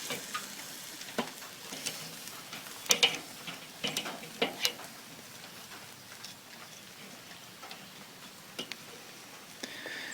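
Chicken breasts sear on a Weber kettle grill, giving a steady low sizzle broken by sharp ticks and crackles, with brief louder pops near the start as the pieces are handled.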